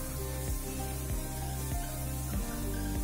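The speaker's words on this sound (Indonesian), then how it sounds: "ini sekalian kita suruh semprot aja yang kenceng" High-pressure water spraying at a motorcycle wash on a Yamaha XMAX 250 scooter, a loud continuous hissing blast with a low steady mechanical hum and faint periodic thuds underneath, no speech.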